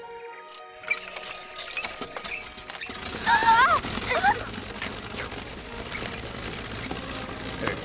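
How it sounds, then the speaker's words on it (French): A cartoon manure-vacuum invention whirs and ratchets, its clicking mechanical clatter running continuously with squeaky tones and busy animated effects layered over it. "assister aux essais de ma dernière invention, l'aspirateur à crottin"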